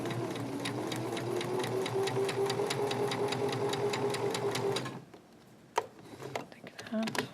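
A sewing machine stitches the waist hem of pajama pants in a steady, fast, even mechanical run for about five seconds and then stops, followed by a few light handling clicks and some quiet movement.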